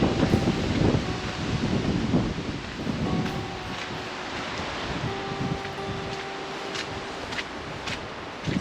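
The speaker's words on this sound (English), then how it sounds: "Oh, that wind!" Strong wind buffets the microphone outdoors on a walk through pine barrens, a steady low roar with rustling gusts throughout, loud and close.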